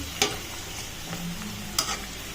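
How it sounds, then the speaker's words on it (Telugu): Samosas deep frying in oil, a close, even bubbling sizzle with two sharp clicks of a utensil against the pan; no one speaks. "ఇప్పుడు డీప్ ఫ్రై చేసుకోవాలి సమోసా."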